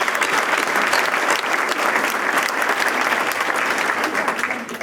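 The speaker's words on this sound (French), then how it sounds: "je crois qu'on peut les applaudir." Sustained, loud crowd applause from an audience at a mayor's New Year address, honouring the volunteer organisers of cooking classes; steady, dense clapping throughout with no pauses.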